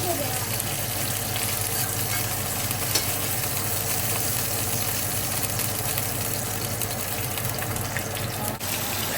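Steady, dense sizzling of food frying in a pan, continuous and fairly loud throughout, with faint kitchen clatter.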